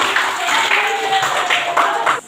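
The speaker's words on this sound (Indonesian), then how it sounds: "Tepuk tangan untuk kita semua." Students in a classroom clap together, a short, close, lively round of hand claps lasting about two seconds and stopping abruptly.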